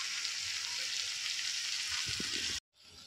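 Chicken sizzling in hot oil with spices while being stirred for Bengali chicken kosha, a steady bright hiss with a few spoon scrapes near the end, then a sudden cut before the frying resumes.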